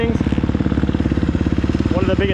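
A 250cc four-stroke dirt bike, compared between a KTM 250SXF and a Yamaha YZ250F, runs steadily while being ridden, a loud even engine throb close by, with a voice speaking over it.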